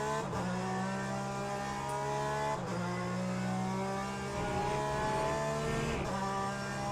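In Le Mans Ultimate, a Porsche race car's engine climbs steadily in pitch through the gears, with quick shift breaks every couple of seconds, loud and unbroken and free of voices.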